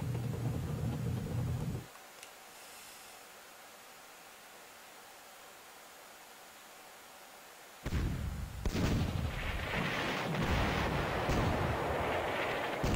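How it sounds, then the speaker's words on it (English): Loud, noisy PlayStation game battle effects with rumbling artillery-like blasts from tanks attacking cannon artillery, cutting to near silence for several seconds before the roaring barrage resumes. "the sound effects for battle are really annoying"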